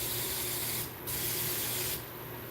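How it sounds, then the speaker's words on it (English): Spray adhesive hisses out of an aerosol can onto bandages in two steady, close bursts, with a brief pause between them and no talking. "Now I'm putting a different kind of spray adhesive on the outside of these bandages."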